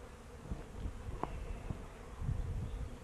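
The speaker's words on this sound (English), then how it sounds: "Look how many bees we've kept from getting to the hive here, just by standing right there." Honey bees buzzing around a beehive during an outdoor beekeeping lesson, a faint steady insect hum with a brief louder buzz as one passes close to the microphone.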